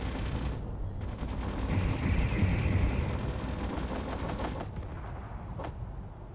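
Sustained Gatling gun fire in the video game Underground Alone, a dense roaring burst of rapid shots lasting several seconds before cutting off, followed by a lone sharp report.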